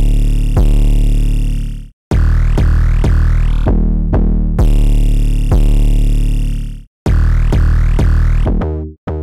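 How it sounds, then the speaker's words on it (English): All three 808 bass patterns layered in an FL Studio alien/supertrap-style beat, producing loud, distorted, booming sub-bass notes with rapid retriggers and brief gaps, ending in a fast stuttering roll, with no speech. "So all the 808s together sound like this."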